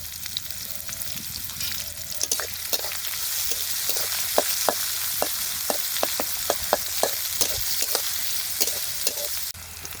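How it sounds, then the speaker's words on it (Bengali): Onion, garlic and green chilies fry in hot oil in a wok-like pan, a continuous sizzle punctuated by frequent clicking stirs and scrapes, close up with no voices. "পেঁয়াজ রসুন কাঁচামরিচ খুব ভালোভাবে ভেজে নিচ্ছি"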